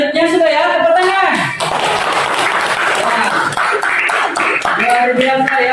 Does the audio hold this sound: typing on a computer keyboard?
no